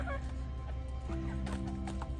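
Chickens clucking in their coop, several close birds giving short, repeated clucks and murmurs over a steady low background hum.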